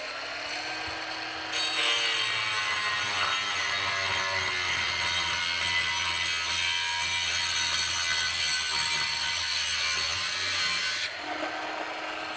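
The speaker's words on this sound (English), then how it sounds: "Just about to destroy Corey's warranty on his new muffler. We're going to cut the end off it." A power saw cuts through the end of a new car muffler on an LS3-swapped Nissan Patrol, a steady loud grinding rasp running about nine seconds after a quieter idle hum, with no talking.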